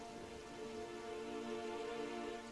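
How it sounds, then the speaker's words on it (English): Heavy rain and wind in Terraria make a dense, steady rushing wash with no breaks, moderately loud and continuous throughout with no voices. "the wind is coming back and now there's heavy rain"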